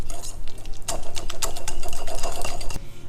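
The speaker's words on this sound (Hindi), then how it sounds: "इसको मैं ये हैंड विस्कर की मदद से फेंट लूँगी।" A hand whisk rapidly beats chilled, semi-set ghee with a couple of ice cubes in a bowl, giving a fast, continuous clattering whir that runs steadily and loud throughout, with no talking.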